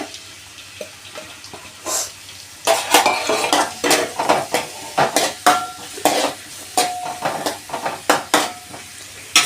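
Onions frying in a pan for a soybean potato curry, heard as a sizzle under busy clatter of a utensil stirring and scraping against the pan in quick, irregular strokes, with no talking.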